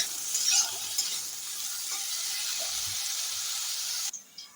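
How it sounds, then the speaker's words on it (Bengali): Eggplant frying in oil in a home kitchen pan, a steady broadband sizzle with a faint stirring scrape, fairly quiet and continuous before cutting off abruptly near the end. "বেগুনটা খুব ভালো করে আগে আমি তেল দিয়ে ভেজে দেবো"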